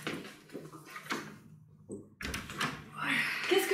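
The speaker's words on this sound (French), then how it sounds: "je vais refermer la porte" A door is pushed shut indoors with a soft thud partway through, while a person moves about nearby and a voice talks briefly before it.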